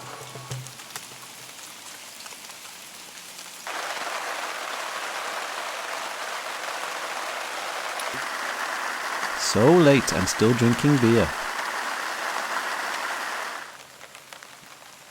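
Rain falls steadily at a seaside park campsite, a broad hiss on the tent or ground that starts abruptly and stops near the end, with a person speaking briefly over it midway.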